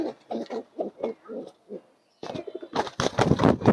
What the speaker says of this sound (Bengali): তো এই কবুতরটি অনেক সুন্দর